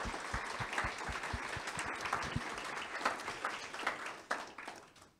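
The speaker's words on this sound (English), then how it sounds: "So I'd like you and everybody else to give you a round of applause for all that hard work and those amazing contributions." Audience applause for students' poster presentations, a steady wash of many hands clapping at moderate distance, sustained for several seconds with no talk over it.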